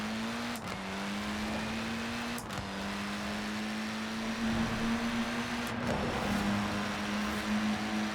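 A lightweight supercar in Forza Horizon 4 accelerates hard toward its top speed, its steady engine drone climbing with brief dips at each gear shift, loud and close throughout.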